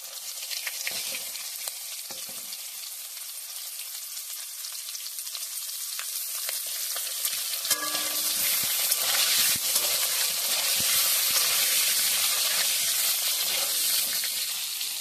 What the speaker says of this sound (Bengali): আমি ওই তেলেতেই পটলগুলো নুন দিয়ে ভেজে নেব।